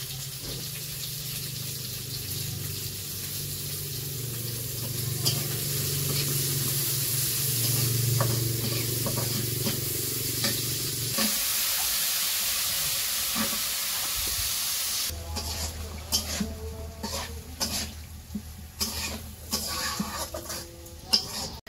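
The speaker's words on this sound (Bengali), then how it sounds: "এই জন্য পেঁয়াজ দিয়ে দিছে কড়াইয়ে, এই যে কাঁচামরিচ কাইটা দিয়ে দিতেছে।" Sliced onions and green chillies fry in a wok over a village cooking fire, giving a continuous sizzling hiss that shifts midway into sharper crackles and a few clinks of utensils.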